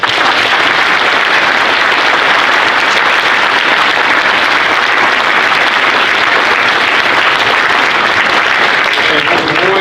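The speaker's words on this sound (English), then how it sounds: "Let's give a round of applause to Carmel." Audience applause for Carmel at an Ohio Blue change of command ceremony: steady, dense clapping from a sizeable crowd, loud and sustained throughout without a break.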